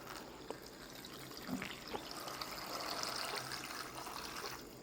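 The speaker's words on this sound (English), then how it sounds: "I'm going to add equal amount of water." Water is poured into beef stock for a spicy Korean beef soup (yukgaejang), a faint steady splashing and trickling that runs unbroken for several seconds.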